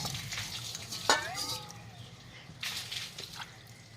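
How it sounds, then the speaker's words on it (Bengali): Water from a mug splashes onto a floor to wash it, a couple of short gushing pours over a low background murmur, close and moderately loud. "তারপরে 1 মগ জল এখানটা ঢেলে দেব"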